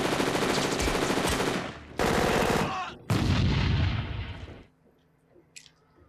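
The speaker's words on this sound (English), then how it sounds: "All these cops that didn't believe Reese. And are trying to shoot this guy" Sustained rapid automatic gunfire from a 1984 action film scene as police open fire, loud dense bursts of shots with brief gaps, then tapering into quieter movie background sounds.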